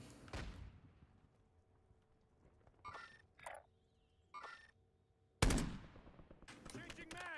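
Machine gun fire in the Warzone video game rattles out in short bursts, several brief volleys spaced apart, then a sharp, loud close burst followed by continued rapid shots, with faint voice chatter in the background.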